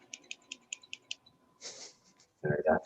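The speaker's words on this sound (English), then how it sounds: "the click of scissors in the background" About six quick, light snips click in a steady rhythm, followed by a brief shuffle and a short bit of breathy voice close by.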